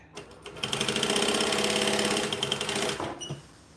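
A sewing machine stitches along the edge of bonded nylon fabric in one loud, continuous run of about three seconds, with a rapid mechanical rattle that then stops abruptly and leaves a little handling noise.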